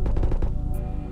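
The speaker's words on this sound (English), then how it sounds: "Where were those gunshots?" Burst of rapid gunfire in the VR shooter Ghosts of Tabor, several quick sharp cracks in the first half second, fairly close, then fading into a low droning hum.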